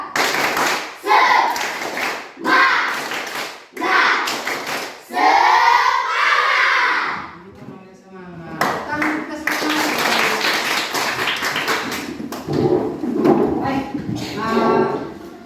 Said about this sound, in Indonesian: Ulang dari awal. Tepuk semangat.